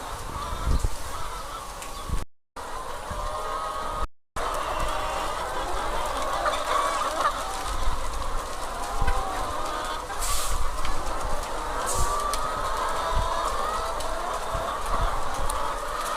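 A crowd of Sonali and layer chickens clucks busily and continuously at close range during morning feeding, with scratching and pecking noises filling the background and no talking.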